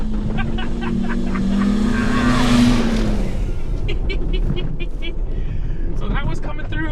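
A Ford Bronco Raptor accelerates hard across a field. The turbocharged engine swells into a rising roar, and someone talks over the driving noise.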